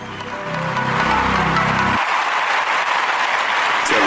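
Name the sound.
applause sound effect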